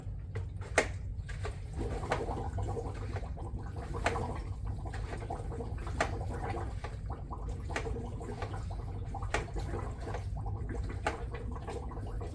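Continuous watery gurgling and bubbling with irregular clicks and pops as a Fluval 407 aquarium canister filter fills, steady and close throughout.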